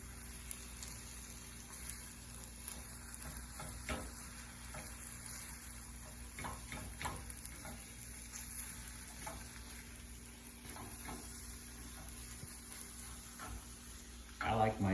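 Eggs frying in a pan with shallots, spinach and a bit of sausage, a low steady sizzle with occasional clicks and scrapes of stirring, carrying on under a person talking throughout.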